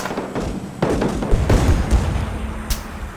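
Gunfire aimed at vehicles in Arma 3, with a few sharp thudding shots and booms over a rumbling battlefield background, followed by a bright crack near the end.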